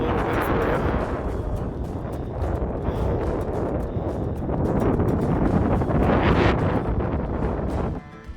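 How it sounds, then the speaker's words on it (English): Strong wind gusts buffet the microphone at Ubehebe Crater, a loud, continuous roaring rumble that swells and eases before cutting off abruptly near the end. "The wind is still blowing pretty good, as you can tell."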